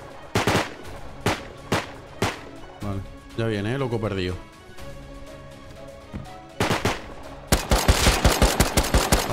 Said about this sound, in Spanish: Pega dos tiros más aquí.